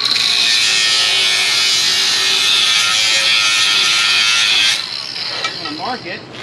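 A cutoff wheel grinds into an old metal shovel, a loud, steady high whine for about five seconds before it cuts out and winds down, with a voice speaking over the end.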